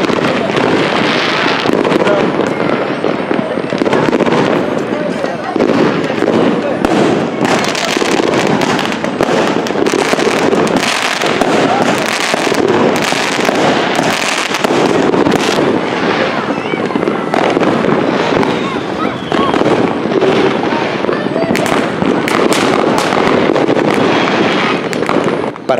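Fireworks and firecrackers burst nonstop through a neighbourhood on New Year's Eve, a loud, dense crackle of pops and bangs lasting almost half a minute, with voices talking underneath.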